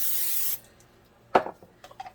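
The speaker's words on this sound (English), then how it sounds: "So I'm just going to put a little bit of spray on here." Cooking spray aerosol hissing onto a baking dish for au gratin potatoes, one half-second burst followed by quiet clinks and handling sounds, no talk.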